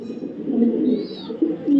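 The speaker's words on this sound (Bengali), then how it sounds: "মিলি পাইট একটা নর কবুতর মাশাআল্লাহ, খুব সুন্দর" A male Mili pied racing pigeon coos softly and close by, giving several low, murmuring coos in a loose rhythm.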